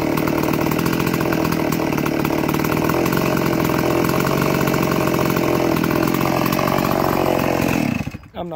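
Stihl chainsaw converted from an 024 to an 026 runs loud and steady at high revs, a dense buzzing roar that holds almost the whole time before dropping off sharply near the end.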